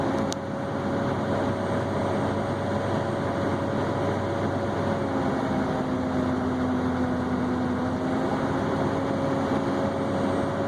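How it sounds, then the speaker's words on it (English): A truck engine idles with a steady drone as its RPM cycles up and down while the fan clutch and AC clutch switch on and off, giving a constant low hum with slowly shifting tones and no speech. "You can hear it cycling up and down 1300 RPMs, 1500 RPMs"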